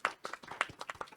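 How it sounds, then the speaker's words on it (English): A few scattered, fairly quiet claps from an audience at a youth event, irregular and close together, lasting about a second. "So please join me in giving a round of applause to the incredible Brenda"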